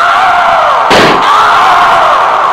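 A loud burst cuts sharply through a dense, roaring crowd-like noise, a single booming hit lasting under half a second.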